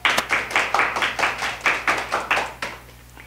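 An audience claps at a presentation on bullying, with roughly a dozen distinct, fairly even hand claps in a loose rhythm that slows and stops near the end, over faint background hum.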